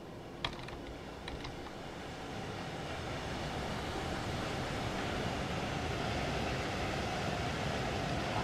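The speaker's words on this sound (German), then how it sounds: "Und lassen mal den Zug an uns vorbei rollern." A train from the Train Sim World 2 game, on the Hamburg–Lübeck line with a BR 146 locomotive, rolls steadily past with a broad, sustained rumble that slowly swells, and a few keyboard clicks at the start.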